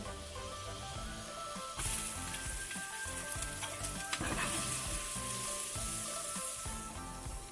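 Chopped shallot sizzles in melted butter in a pan, a close, steady crackling fry that grows louder after an early stir and keeps going without pause.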